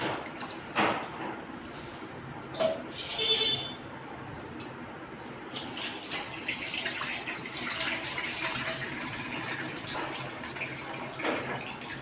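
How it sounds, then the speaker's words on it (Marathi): Ration rice is washed in water in a home kitchen, with quiet sloshing and splashing plus a few louder swishes, faint and close, without talk. "1 किलो रेशनचे तांदूळ घेतलेले आहेत आणि याला आपण आता स्वच्छ धुवून घेऊ 2-3 पाण्याने"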